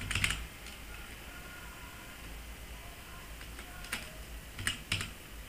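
Typing on a computer keyboard: a few quick clusters of sharp key clicks, with short bursts at the start and end and sparse taps between, close and fairly quiet over a low background hiss.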